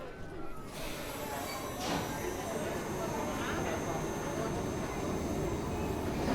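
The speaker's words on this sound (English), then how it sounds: "Here's our train" A ride train at Animal Kingdom rumbles in steadily, its low rolling noise mixed with a crowd murmuring nearby.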